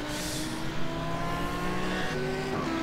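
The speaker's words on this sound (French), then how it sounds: "Alors, la BM qui passe." A BMW GT3 race car in the iRacing sim passes on the Nordschleife, a loud, steady engine roar with high-pitched whine and slight tire noise, sweeping past close by without talk.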